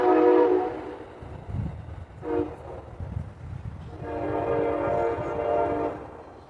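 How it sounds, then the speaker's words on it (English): A passing train sounds its horn in several long, loud blasts separated by short gaps, over a low rumbling of rail cars rolling by outdoors. "The train is coming"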